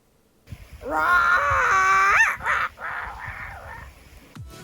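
A human voice mimics a bird call with a harsh, rising screech followed by shorter wavering cries, close and loud, with no other sounds.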